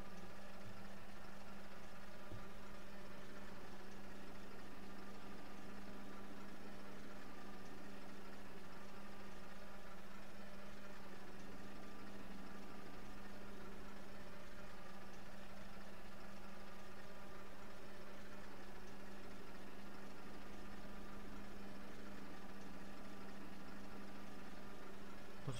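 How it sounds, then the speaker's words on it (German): A bus engine in the OMSI 2 bus simulator game idles with a steady, low, even rumble and a faint hum, continuous and unchanging throughout. "dann machen wir eben schon mal den Motor an"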